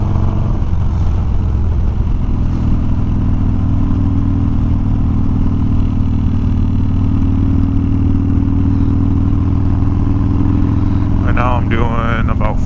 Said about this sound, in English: Just kind of downshifting and upshifting, trying to just ride through a lot of different ranges of like RPM.